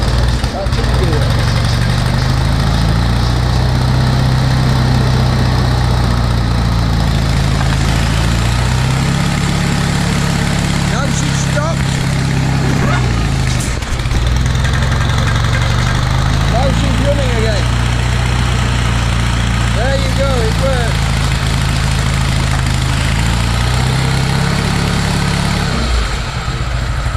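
A Toro lawn tractor engine idles with its grass deck drive engaged, a loud, close, steady low rumble that runs unbroken from start to finish.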